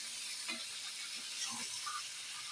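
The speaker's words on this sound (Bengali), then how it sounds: "মিষ্টি কুমড়া ওটা একটু ভাজা নিতে আছে" Sweet pumpkin frying in a pan gives a steady, even hiss and sizzle all through, with a few faint scrapes and clinks close by and no voices.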